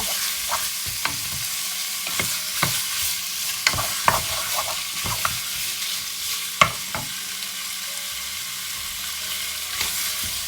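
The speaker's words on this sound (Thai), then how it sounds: "เราก็จะลวนหมูให้มัน สุกนิดนึงนะคะ" Pork stir-fried in a pan with a steady sizzle and repeated scraping, clacking strokes of a utensil against the pan, close and continuous with no talking.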